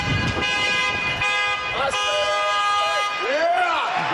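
A car horn toots in short repeated honks at a house, loud and close over a steady background hum.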